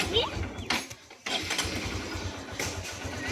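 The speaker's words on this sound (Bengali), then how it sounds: "চলো এবার বেরোই যা খাটারা বাইক স্টার্ট" An old, worn-out motorbike cranks and fires up, a few sputtering attempts with a short gap before the engine catches, then settles into a rough, throbbing idle close by.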